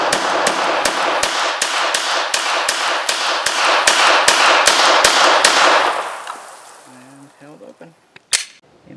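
Rapid string of about fifteen pistol shots from a SIG M17 or Glock 19X at an outdoor range, fired in a steady, quick rhythm of sharp loud cracks, followed by quiet and someone speaking briefly.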